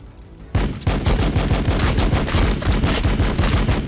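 Bolt rifle fire in the strategy game Warhammer 40,000: Battlesector, a rapid, steady stream of loud, sharp shots that bursts in abruptly after a quiet moment and keeps going without pause.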